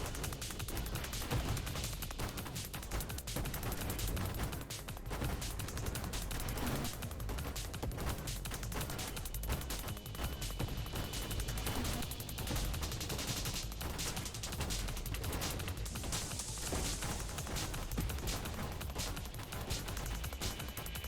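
Dense, continuous video game gunfire and explosions rage without a break, loud and chaotic, with no clear pauses between bursts.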